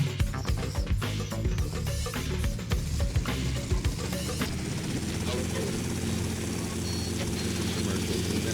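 Helicopter flying in the video game GTA Vice City, a loud steady rotor chop and engine drone, with someone talking over it during the first half.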